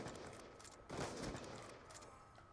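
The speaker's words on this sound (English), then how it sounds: "Nick, you're shooting at nothing." Gunfire in a video game: a faint, quick burst of rapid shots followed by a denser flurry of firing that fades, heard at low volume with no talk over it.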